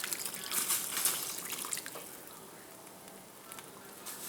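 A cornstarch and water mixture is poured into a pot at a rolling boil while cooking a Chinese pork and mushroom dish, giving a hissing, bubbling, splashy wash that is strongest early, then eases.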